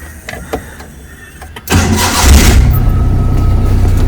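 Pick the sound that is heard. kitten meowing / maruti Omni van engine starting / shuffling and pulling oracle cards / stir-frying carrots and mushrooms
maruti Omni van engine starting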